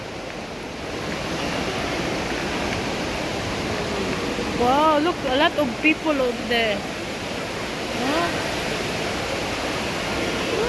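Steady rushing water fills the scene inside the Dubai Mall, a broad continuous roar, with a child's and an adult's voices speaking briefly over it midway.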